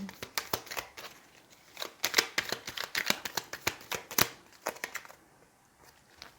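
Tarot cards being shuffled by hand, a run of quick papery riffles and taps, some close and crisp, with a brief quieter pause near the end.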